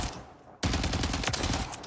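Gunfire in a video game firing range: a weapon shot repeatedly in rapid bursts, loud and dense after a brief quiet start, with no voices.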